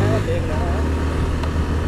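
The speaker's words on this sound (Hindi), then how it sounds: "और बाइक देखो कितने प्यार से चल रही है यार।" A motorbike riding along a road, a loud, steady engine drone and wind rumble continuing throughout, with a voice talking over it.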